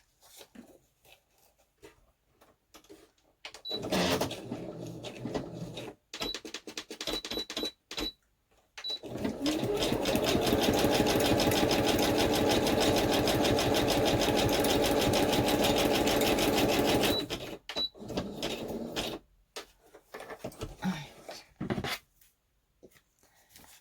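A sewing machine runs a zigzag stitch down the middle of a craft piece, a steady rapid mechanical chatter for about eight seconds, framed by shorter stop-start runs and handling noises.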